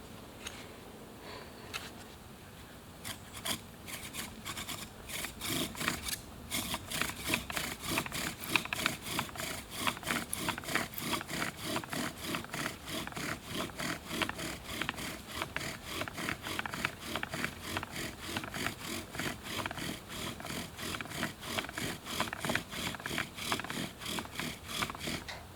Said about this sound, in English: So I've drilled a really nice hole here.